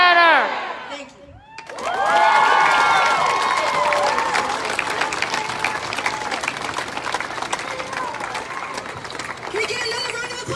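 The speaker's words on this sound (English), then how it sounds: "Can we get another round of applause for Jada?" After a brief shout, a crowd of students at a school rally bursts into loud, sustained applause mixed with cheers and whoops, continuing strongly throughout.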